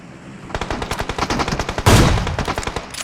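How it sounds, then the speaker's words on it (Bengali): Loud, rapid automatic gunfire in PUBG Mobile, a steady stream of close shots with a heavier blast near the middle before the firing continues. "ও কতখানি ওপেনে এসে আমার ফায়ারটা দিচ্ছে"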